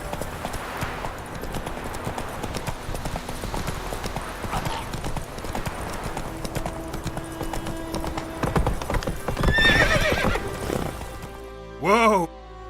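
Roach the horse gallops in The Witcher 3 with steady rhythmic hoofbeats throughout, mixed with game sounds, then a loud neigh near the end.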